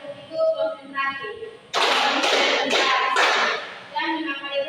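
A group of young students claps four times in unison during a classroom session, four sharp, evenly spaced claps close by and loud, with a voice talking just before and after.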